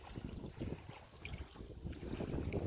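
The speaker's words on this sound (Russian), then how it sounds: "сегодня ветер поменялся. И теперь дует встречный." A strong headwind blows over Lake Baikal during a kayak trip, with a steady rushing roar and microphone buffeting gusts alongside faint lapping water, continuous and fairly loud.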